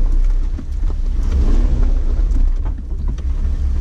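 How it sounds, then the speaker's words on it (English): Jeep engine roaring under heavy throttle while climbing a slippery muddy hill at Kansas Rocks, a loud, low, continuous rumble with wind buffeting the microphone. "the Jeep had enough wheel speed and momentum to power up the slippery climb"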